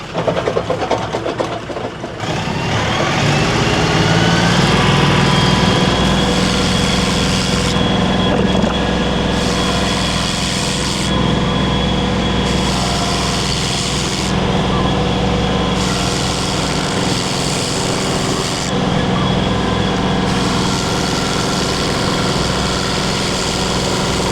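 A rented stump grinder works steadily through a tree stump, its engine droning loud and continuous with a grinding hum, after a brief rough start at the beginning.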